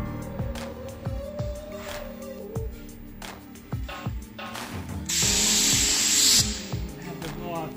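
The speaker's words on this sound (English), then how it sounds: "I'm using the grinder to just make the bottom of the seam smooth." A regular handheld grinder smooths the bottom of a seam on solid surface shower wall panels, whirring in short repeated passes that build to a loud sustained burst, with people talking intermittently over it.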